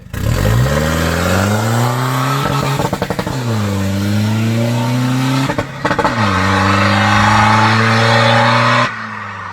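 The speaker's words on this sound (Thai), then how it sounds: "ตัดดังไหมล่ะ นะครับ ตัดดังสะใจเลย" A remapped Chevrolet engine (Thai 'new chef' model) revs hard with rising pitch, then bounces against the rev limiter in rapid stuttering cuts, twice, before easing off, loud and close with no speech.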